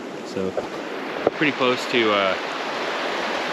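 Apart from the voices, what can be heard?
river water flowing near snowy camp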